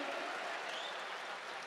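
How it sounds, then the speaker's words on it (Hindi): An audience at a Hindi poetry recitation breaks into loud, dense, continuous applause that holds steady throughout, with crowd noise blended in. "ताली बजाओ, सांस लेना है।"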